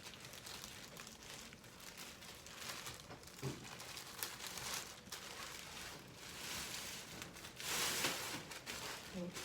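Plastic wrapping crinkles and rustles in irregular bursts as it is handled while sublimating a white personalized dog bandana, close and fairly quiet, with a louder crackling rustle near the end.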